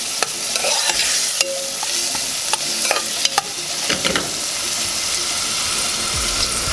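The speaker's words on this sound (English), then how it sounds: "this cabbage is cooking nicely" Cabbage cooking in a hot pot, a steady loud sizzle and steamy hiss with a few scattered clicks and stirring knocks, no voices.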